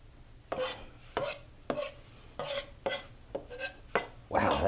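Knife chopping through food on a board while cutting ingredients for Texas homestyle chili with beans, heard as about eight sharp, evenly spaced chops, close and fairly quiet, the last one a heavier scraping cut.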